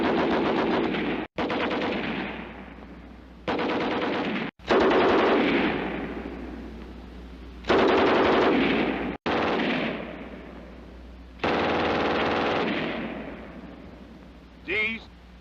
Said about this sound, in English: note the distinct sound of the MG34 and MG42